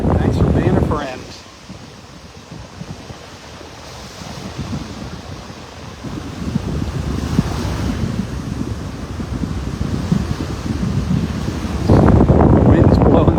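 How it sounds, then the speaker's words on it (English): Strong wind buffeting a handheld camera on a beach at sunset in North Naples, Florida, a loud, steady roaring rumble over surf, gusting harder at the start and end. "The wind's blowing the camera here."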